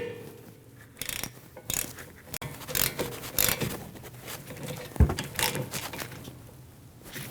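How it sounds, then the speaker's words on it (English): A ratchet tightens the brake caliper bolts on a 2013-2019 Ford Escape, quiet rhythmic clicking strokes in uneven bursts, close, with a sharp metallic knock partway through and no speech. "Now you can tighten both caliper bolts."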